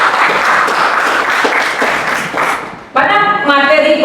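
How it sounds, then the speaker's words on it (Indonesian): A class applauds itself, a few seconds of rapid clapping from a group that fades out, followed by a person speaking. "kasih aplaus untuk diri sendiri"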